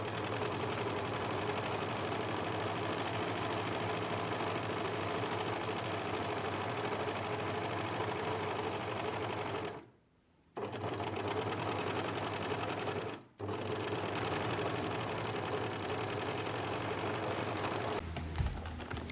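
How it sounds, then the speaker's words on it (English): An overlocker runs steadily around the curved edge of a back pocket bag, a loud continuous whirring drone that stops briefly twice before resuming, with no talking. "With the back pocket bag facing up, overlock around the edge of the pocket bag curve."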